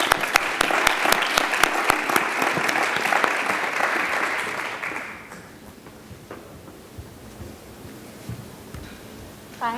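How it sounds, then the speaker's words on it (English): A crowd applauds a speech club member at a speech showcase, loud dense clapping for about five seconds before it fades into quiet room noise and a voice starts at the very end. "let's please give her a round of applause"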